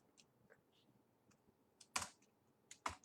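Fingers type code on a computer keyboard in quiet, close, irregular clicking, with a couple of louder sharp key strikes near the end.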